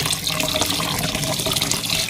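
Tap water runs steadily into a pot as sticky rice is rinsed, a continuous close splashing wash with no talk, for a Thai-style mango sticky rice.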